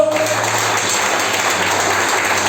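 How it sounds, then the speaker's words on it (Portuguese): Church congregation clapping during worship, a steady dense wash of hands that fills the short stretch with no pauses, loud and close, with a brief held tone at the start. "As palmas, exalta o Senhor."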